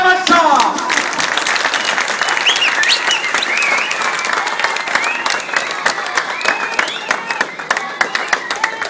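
A large audience at a jalsa gathering breaks into loud, sustained applause that welcomes a speaker to the stage, dense clapping that holds strong throughout and thins slightly toward the end.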